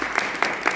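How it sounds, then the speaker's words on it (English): Short burst of audience clapping after a talk on the Sakalārhat Stotra, a few uneven pulses of hand claps in a small room. "We have a big round of applause for Rajeev."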